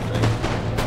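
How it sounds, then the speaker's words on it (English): Massed musket volleys and rolling platoon fire from infantry in the strategy game Empire: Total War, a dense continuous roar of overlapping gunshots with no clear gaps. "They try to incorporate both volleys and platoon fire."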